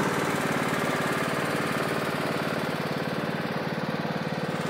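A Craftsman LT2000 riding lawn mower engine runs steadily and loudly up close, its rough rhythmic chug holding constant with no other sounds.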